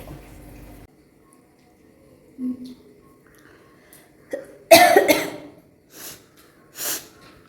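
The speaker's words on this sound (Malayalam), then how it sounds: "ജലദോഷം വന്നിട്ട് ചുമ മാറുന്നുണ്ട്" A few harsh coughs close by, a burst of two followed by two more spaced apart, after a quiet stretch with faint sounds.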